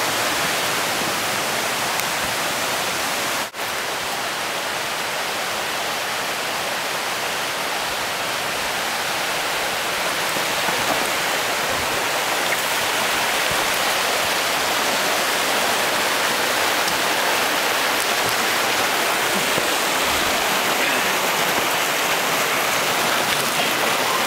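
A creek flowing over rocks, giving a steady, broad rushing and splashing wash that stays even and fairly close from start to finish with no voices.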